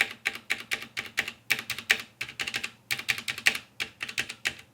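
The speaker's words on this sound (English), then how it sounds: "I actually like the sound of the space button on this one." Steady, rapid clicking of a mechanical keyboard with red linear switches (Cherry MX or Gateron), its space bar and keys tapped in an even, close rhythm with no talking.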